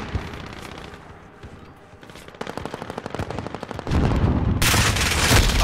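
Rapid automatic gunfire in the video game Call of Duty Warzone, played on Xbox Series S, rattles in dense bursts, growing louder and heavier toward the end with a sharp burst near the close.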